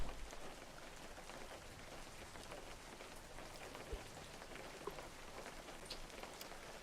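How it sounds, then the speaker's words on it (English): Rain falls steadily in the fishing video game Webfishing, a soft, even patter of drops that continues without a break, quiet and close, with no voices. "I want some rain. I love the rain."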